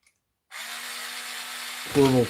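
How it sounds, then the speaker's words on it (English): A Draper cordless screwdriver rated at 4 newton meters of torque, fitted with a 12-volt battery in place of its 4-volt one, whirs steadily and close for about a second and a half, then rises in pitch and gets louder at the end. "Draper screwdriver with those 4 newton meters of torque that I always brag about every week."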